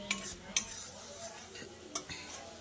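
Spice paste with tomato being stirred and fried in a pan for a vegetarian pumpkin dish, with soft scraping, a faint sizzle and a few sharp clinks of a utensil against the pan, close and fairly quiet.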